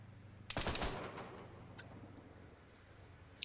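Turret machine gun fire in Arma 3, a single short rapid burst at moderate distance, followed by faint scattered ticks and clicks against a quiet background.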